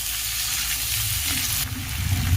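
Green peas frying on high flame for fried rice, a loud, dense sizzle with low spoon-and-pan clatter beneath it.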